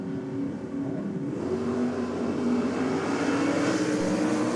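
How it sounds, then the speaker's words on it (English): A naturally aspirated 434 cubic inch Chevrolet-powered Super Sedan drag racing, a loud sustained engine roar with no supercharger, turbo or nitrous, holding steady and slightly rising in pitch. "the 434 cubes of Chev power on board. His Super Sedan, designated Tirana. This is all motor, so no supercharger, no turbo,"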